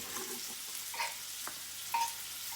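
Salted onions sizzle steadily in a hot pan for Moroccan cooking, with a few soft scraping knocks as they are stirred around, close and alone.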